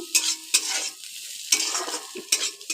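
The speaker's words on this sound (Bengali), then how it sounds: "উচ্ছে আলুটা ভাজা হয়ে এসছে" Bitter gourd and potato pieces fry in a pan with a steady sizzle, broken by repeated scraping stirs of a spatula against the metal, close and fairly loud.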